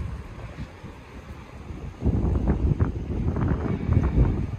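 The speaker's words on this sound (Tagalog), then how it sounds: "Yan, lakas ng hangin." Strong wind buffets the microphone with a low roar that grows louder and gustier halfway through, outdoors in Taiwan with no talking.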